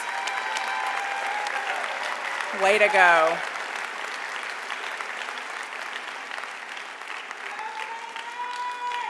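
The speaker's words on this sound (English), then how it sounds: "let's give that a round of applause" An audience at a community college commencement ceremony applauds a graduate: a steady wash of clapping with a brief cheer rising over it and a speaker's voice carrying on above the applause.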